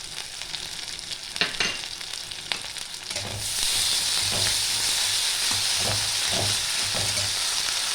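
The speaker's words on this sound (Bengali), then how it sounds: "পেঁয়াজটা একটু ভেজে নেব" Chopped onion fries in oil in a pan, the base for a Bengali fish roe and potato curry; a steady sizzle jumps louder a few seconds in and keeps going with occasional stirring scrapes, close and alone.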